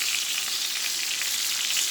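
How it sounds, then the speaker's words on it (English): A big, thick roast sizzles in a pan, giving a steady, close, hissing crackle that holds evenly throughout with no talking. "that big, thick roast sizzling."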